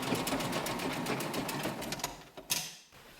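A sewing machine stitches an apron, its rapid rhythmic needle chatter running close and steady for a couple of seconds before a few clunks as it stops.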